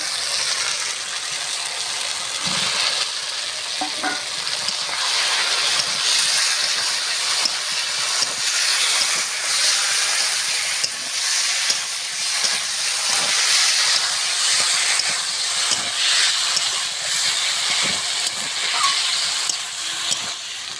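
Fried jackfruit pieces go into a sizzling spice paste, a loud steady hiss of frying with occasional scrapes and clicks of stirring throughout, no voices.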